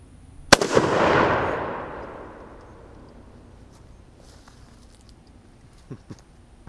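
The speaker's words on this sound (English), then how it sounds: "I'm gonna load up another round and fire it because I'm feeling gutsy today." A single sharp gunshot from a Lee-Enfield No1 Mk3 .303 rifle converted to jungle carbine style, loud and close, followed by a long rolling echo that fades over a couple of seconds, then faint handling clicks.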